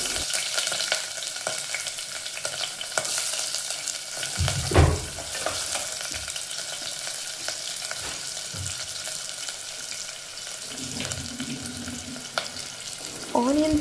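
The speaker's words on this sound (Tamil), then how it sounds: "ஸ்லைஸாக கட் பண்ணியிருக்க வெங்காயம் ஆட் பண்ணிக்கோங்க." Sliced onions frying in hot oil with spices for a mushroom biryani: a steady close sizzle with occasional stirring scrapes and clinks, and a brief splash of water near the end.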